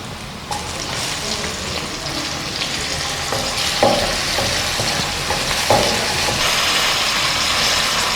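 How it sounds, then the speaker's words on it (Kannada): Tomatoes go into a hot pan for paneer korma and fry with a loud, steady sizzle, joined by a few sharp clacks and scrapes of stirring close by. "ಈಗ ನಾನು ಟೊಮೆಟೊ ಹಾಕ್ತಾ ಇದ್ದೀನಿ."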